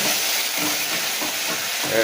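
Ground whole spices stirred and fried in a pan for a Katla fish curry, a dense, continuous sizzle with soft scraping of a spatula, close and fairly loud.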